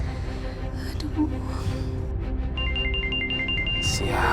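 A telephone ringtone repeats in a steady beeping pattern over a low background hum, moderately loud and with no talk.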